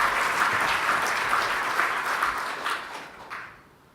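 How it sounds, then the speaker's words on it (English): Dense audience applause fills a hall at a tech-industry fellow awards ceremony, loud and sustained, then tapering off and dying away in the final half second. "Yeah, you can clap."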